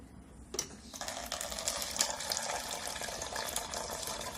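Water runs steadily from the dispenser of a Samsung side-by-side refrigerator, a close, continuous splashing stream that starts abruptly and keeps flowing without a break.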